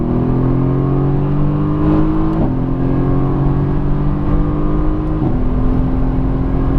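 A 2017 Mercedes AMG GTS engine pulls hard under throttle on a race track, its loud, steady drone climbing in pitch with two quick gear shifts, heard from inside the cabin.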